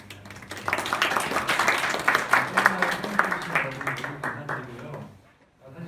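Lecture audience applauding at the close of an architecture talk, steady moderate clapping filling the room for several seconds, then tapering off abruptly into near silence.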